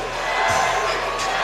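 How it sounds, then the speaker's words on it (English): A crowd at an MMA fight event cheers and whoops in a loud, continuous roar, heard alone for a moment. "And there you hear the crowd behind their man."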